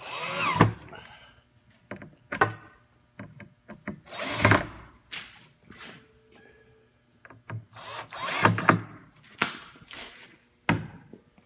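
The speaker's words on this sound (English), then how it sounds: "We recommend a screw gun because there's going to be, between this and the table, I think there's upwards of 50 screws for each one." A handheld screw gun drives screws into wood during furniture assembly, giving repeated short whirring bursts with gaps between, close and moderately loud.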